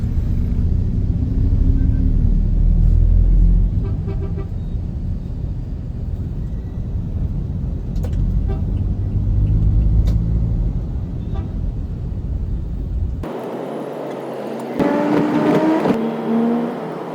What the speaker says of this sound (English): The traffic here is insane.